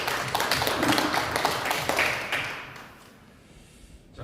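A short burst of applause fills the room at the founding general meeting of a cooperative council in Naju, clapping briskly for about two and a half seconds before fading to quiet, with a brief spoken line at the start.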